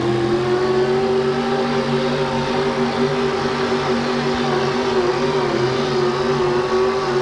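A 1979 Ford pulling truck with a 600 cubic inch shotgun Hemi engine roars at a steady, loud, sustained pitch for several seconds at an indoor truck and tractor pull, with no talk over it.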